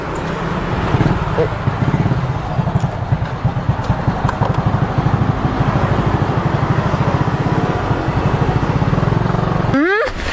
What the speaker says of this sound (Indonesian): Lagian motor kenapa sih kok tiba-tiba mogok kayak gini?